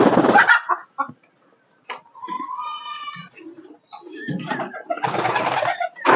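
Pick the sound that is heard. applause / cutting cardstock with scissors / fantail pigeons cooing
fantail pigeons cooing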